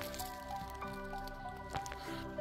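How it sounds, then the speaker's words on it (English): Water runs and drips down into a cave hole in a forest floor, heard from above as a faint, echoing trickle with scattered wet drips and squelches, without talking. "You can actually hear the water running down there."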